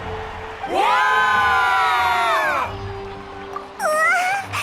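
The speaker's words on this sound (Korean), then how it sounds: "모두 그 어느 때보다 뜨거운 박수와 찬사를 부탁드립니다." A crowd in Genshin Impact cheers and whoops in celebration, a swelling chorus of voices that rises and holds for about two seconds, then fades, followed by a shorter second burst of cheering.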